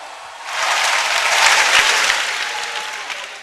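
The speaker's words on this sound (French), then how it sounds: "Est-ce qu'on peut applaudir pour la jeunesse guinéenne," An audience at the grand final of a Guinean youth debate contest breaks into applause, swelling after a quiet start into sustained, dense clapping from a large crowd before tapering off slightly.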